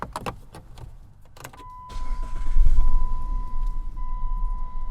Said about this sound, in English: let's try our key. Make sure it starts the vehicle.